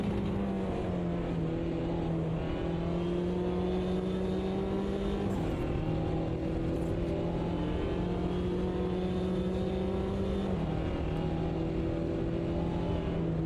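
Race cars in a sim racing game roar flat out down a back straight in a drag race, a loud steady engine drone with rising pitch sweeps and brief dips at two gear shifts, no talk.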